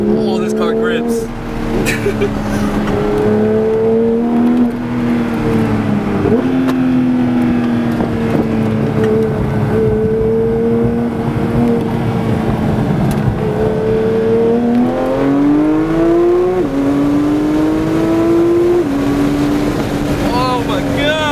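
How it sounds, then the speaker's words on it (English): K-swapped Honda Integra Type R engine revving hard on a race track, a loud continuous in-car drone rising and falling in pitch through gear changes, with wind noise and excited talk over it. "This car sounds sick."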